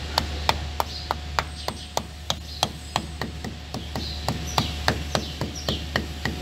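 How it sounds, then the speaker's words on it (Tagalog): Sharp hammer taps on a part of a Nissan Civilian being seated with silicone, about twenty evenly spaced close strikes in a steady rhythm, with faint birdsong in the background. "Gagamitan natin ng martilyo natin."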